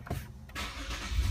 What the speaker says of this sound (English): you'll be able to start the car